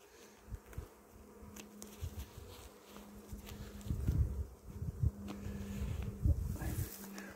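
A honeybee swarm buzzes in and around a hive outdoors, a continuous droning hum with individual bees passing close, growing denser and louder midway, with faint rustling.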